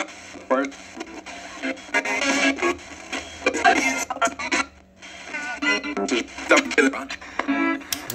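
AM radio static hisses and crackles over a low steady hum, with broken fragments of voices surfacing through the noise in uneven bursts.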